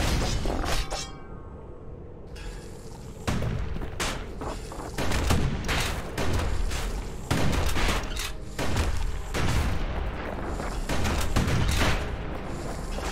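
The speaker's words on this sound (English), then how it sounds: "He's blasting everything in sight with that newfangled musket." Repeated musket blasts from the fantasy action game Bastion crack out in a steady, uneven rhythm, each shot sharp and loud over a busy backdrop of game effects and impacts, continuing throughout.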